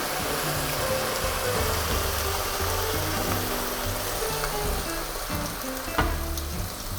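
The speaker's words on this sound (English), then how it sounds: "Let it simmer for 3 to 5 minutes until the alcohol evaporates." White wine simmers and sizzles vigorously in a pot of braised rabbit, a continuous dense bubbling hiss with low rumbling underneath and a small clink near the end.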